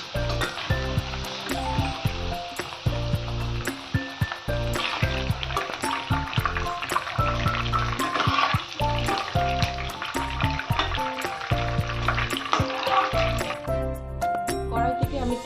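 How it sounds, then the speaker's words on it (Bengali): Chicken pieces fry in hot oil in a pan for a sweet chicken dish. A steady crackling sizzle runs throughout beneath louder background music. "ভালো করে আমি চিকেনগুলোকে ফ্রাই করে নেব"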